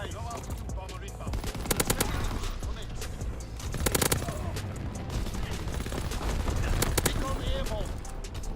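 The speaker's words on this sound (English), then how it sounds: "Guns firing, clearing the sky." Gunfire in Call of Duty WW2: bursts of machine-gun fire and scattered shots crackling over a busy battle din, fairly close, with a few louder volleys.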